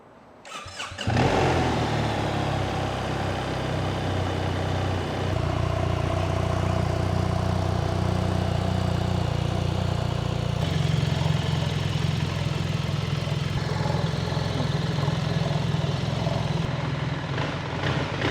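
A 2025 BMW GS 1300 Adventure motorcycle cranks and fires on a cold start, then settles into a steady, loud idle with a deep engine burble that holds up close and alone.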